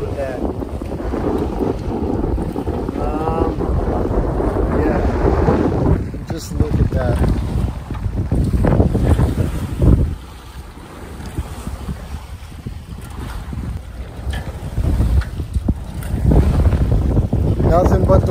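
A sailboat runs under wind power on open sea between Phuket and Ko Phi Phi, with steady wind buffeting the microphone and water rushing along the hull while someone talks.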